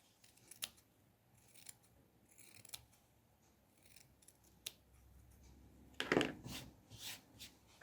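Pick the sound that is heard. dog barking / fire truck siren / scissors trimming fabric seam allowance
scissors trimming fabric seam allowance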